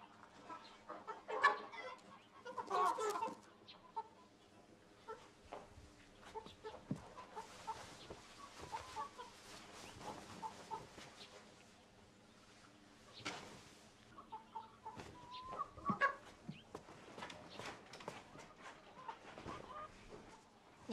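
A rooster and hens cluck on and off in scattered close bursts over a quiet farmyard background, with no talking.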